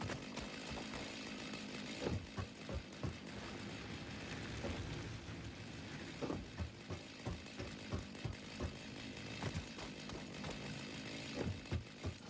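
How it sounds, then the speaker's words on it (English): A chainsaw cuts through trees in the video game Satisfactory, a steady buzzing engine drone with repeated sharp bursts and thuds as the cuts land, fairly quiet, with no talking. "let's grab my chainsaw"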